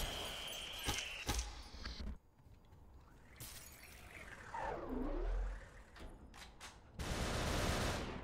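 Gunfire and shattering impacts in the slow-motion shooter game SUPERHOT, with an assault rifle among the weapons: sharp bursts at the start, a drawn-out warping whoosh in the middle, then a loud dense crash near the end.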